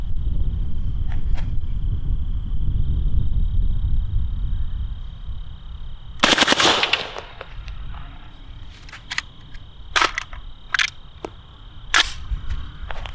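A suppressed machine gun fitted with an enhanced bolt carrier group fires subsonic rounds, giving a short loud burst followed by several isolated sharp cracks and clacks after a stretch of low steady hum.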